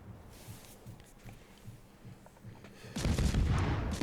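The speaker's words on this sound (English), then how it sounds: "Now I'll just stop in front of the smoke and shoot the Hawkins" Ship guns fire in the naval video game World of Warships from the destroyer Gremyashchy at the cruiser Hawkins. Low, scattered thuds give way to a sudden loud, sustained volley of booming gunfire.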